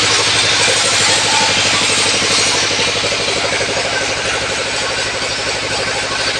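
A tractor engine runs steadily and loudly close by, its dense, even mechanical rumble and pulsing vibration continuing unbroken throughout.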